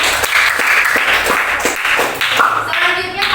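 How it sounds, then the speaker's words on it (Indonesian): A classroom gives a round of applause for a student after her reading, dense clapping from many hands throughout, close and fairly loud. "tepuk tangan untuk Reva"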